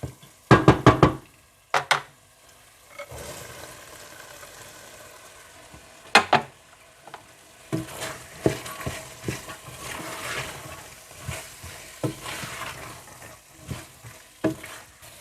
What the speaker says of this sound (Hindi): जब सब कुछ अच्छी तरह से मिक्स होकर मसाला अच्छा सा भुन जाए तो आप इसमें दाल डालकर मिला लें।